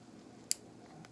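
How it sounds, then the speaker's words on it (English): A pair of scissors makes a single sharp snip through a knot of fishing line on a reel spool, close and crisp against a quiet background, followed by a faint second click. "I take a pair of scissors, and there's a knot right about there that I have to cut"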